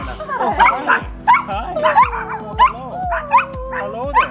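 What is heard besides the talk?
Chihuahua dogs barking and yipping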